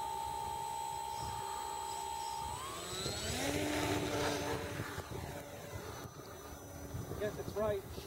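A radio-controlled model airplane engine idles with a thin, steady whine, then is throttled up to full for a takeoff from light grass. Its pitch climbs into a louder, rising buzz while people talk nearby.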